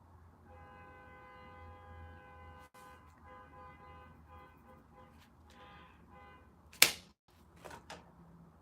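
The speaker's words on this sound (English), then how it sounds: "So why are you honking your horn?" A car horn honks outside in a steady, sustained tone for several seconds, heard at a distance, followed by a few sharper short bursts toward the end.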